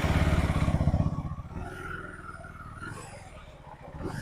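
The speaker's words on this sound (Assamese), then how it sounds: "বাইকখন এতিয়া পাৰ কৰি লওঁ" A motorcycle engine throbs close and loud as the bike is ridden in to be parked, with a pulsing rhythm at first that eases and grows quieter over the next few seconds.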